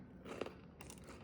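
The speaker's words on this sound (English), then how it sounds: "Do you hear that crunch?" A crisp bite into a no-bake peanut butter chocolate treat gives one or two close, brittle crunches with a little chewing, heard alone with no talk.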